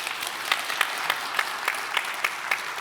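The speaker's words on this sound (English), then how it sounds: "Round of applause." Audience applause for summit panelists at a drone technology conference, a steady wash of many hands with a few sharper claps standing out regularly, moderately loud and continuous.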